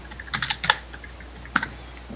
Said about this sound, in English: I hammer my keys.